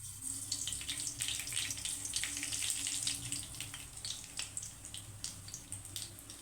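Fenugreek and mustard seeds sizzle in hot oil, giving a continuous bright, crackling hiss with small popping bursts that fades slightly toward the end.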